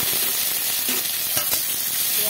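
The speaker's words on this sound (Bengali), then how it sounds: "পেঁয়াজটাকে একটু ভাজা ভাজা করে নেব।" Sliced onions fry in hot mustard oil with black cumin in a wok, a loud continuous sizzle broken by a few scraping stirs of a spatula, with no talking.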